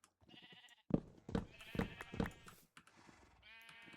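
Sheep in a Minecraft-style video game bleating several times in quick succession, short nasal bleats rising over quiet game background, with no talk over them.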